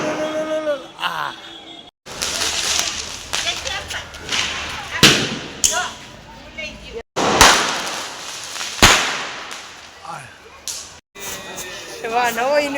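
Diwali firecrackers bursting close by in a series of loud sharp bangs and crackles, each followed by a short decay, with people talking between blasts.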